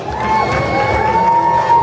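A roller derby crowd cheers and applauds steadily and loudly from near the track, a dense wash of voices and clapping that holds for the full length with no pause.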